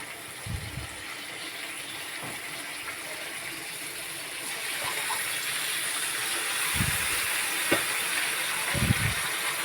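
Marinated goat meat, coated in turmeric, salt and oil, goes into hot oil for a Bengali curry and sizzles with a steady close hiss, punctuated by a few soft knocks and clatters.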